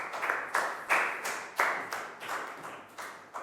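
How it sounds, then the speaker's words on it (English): Applause for a student in a Year 3 geometry lesson: a classroom of children clapping in an uneven burst of quick, overlapping claps, steady and fairly close, with no one talking. "Big round of applause for Lakgao"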